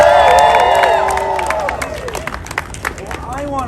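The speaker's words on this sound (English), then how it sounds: "Let's give them a round of applause." Rally crowd at City Hall in Manhattan cheering and clapping loudly, a whistle-like shout at the start, the applause thinning into scattered claps and voices over a few seconds.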